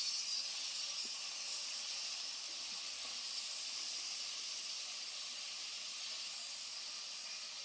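Onions with salt sauté in a pan for mutton chukka, giving a soft, steady sizzling hiss that stays faint and even throughout with no other sounds.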